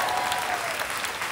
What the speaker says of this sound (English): Yes, that's an applause.